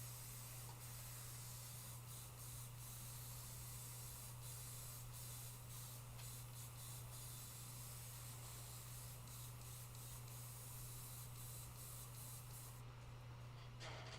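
An airbrush spraying a gray base coat onto a metal panel makes a steady, soft, continuous hiss throughout, with a low constant hum from a compressor beneath it and no speech.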